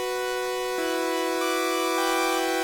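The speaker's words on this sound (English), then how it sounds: "Kind of just like a normal triangle wave." Sustained synthesizer note from the initial preset of Serum 2, a plain triangle-like waveform with a steady, even tone and a slight shift partway through, heard alone and close.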